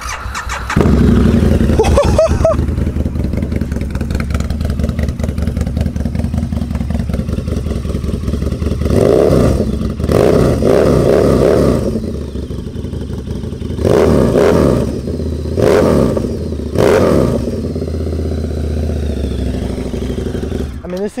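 A 2006 Harley-Davidson Screamin' Eagle V-Rod CVO motorcycle engine cranks and fires up, then idles with a deep rumble and revs several times in sharp bursts, close by, with talking mixed in.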